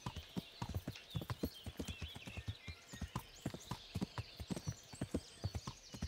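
A horse is ridden at a steady pace in the medieval video game Kingdom Come: Deliverance. Even, rhythmic clip-clop hoofbeats go on throughout, moderately quiet, over a faint airy ambience.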